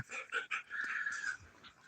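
A pet dog makes a brief, faint whimpering whine with a few short yelps close by, heard on its own without talk.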